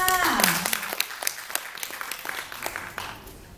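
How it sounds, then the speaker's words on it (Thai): Scattered audience clapping at a Thai singing performance follows a brief voice at the start, with individual claps standing out sparsely and thinning over a few seconds. "ขอเสียงปรบมือด้วยค่ะ"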